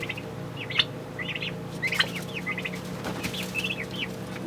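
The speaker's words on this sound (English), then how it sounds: "they're chirping like crazy because they want us to be here." Chicks chirp rapidly in short, repeated high bursts near a contented mother hen, with a steady low hum underneath.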